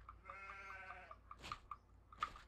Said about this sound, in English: I think you can, like, kill the sheep.